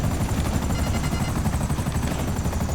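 Several helicopters chase a player in the video game GTA Online, rotor chop steady and loud throughout, with faint gunfire-like crackle mixed in.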